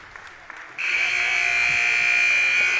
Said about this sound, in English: As the buzzer sounds now,